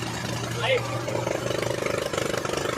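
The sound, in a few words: diesel engine powering bored pile drilling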